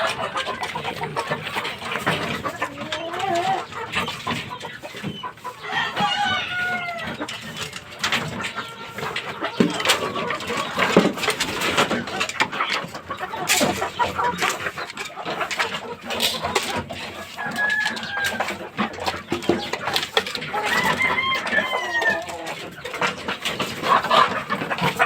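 A gold stag fighting rooster clucks repeatedly, with other birds calling nearby, over a busy outdoor background of scattered knocks and rustles throughout.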